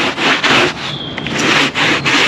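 A stiff brush scrubs back and forth across carpet in quick, rough strokes, close and loud, with brief pauses between passes.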